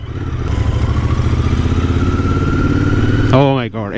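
A Royal Enfield Continental GT 650 motorcycle engine running loud and steady at close range, a deep throbbing rumble held for several seconds before it drops off and a voice cuts in at the end.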